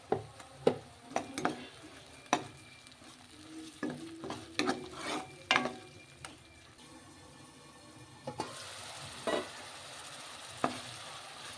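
Onion, ginger, garlic and tomato paste fries in oil, with a soft continuous sizzle broken by repeated scraping and stirring clicks of a spoon against the pan, close and fairly quiet.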